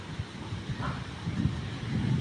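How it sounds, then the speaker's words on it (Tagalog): Strong wind buffets the microphone in a continuous low roar, gusting louder toward the end with no voices present. "Sobrang lakas ng hangin."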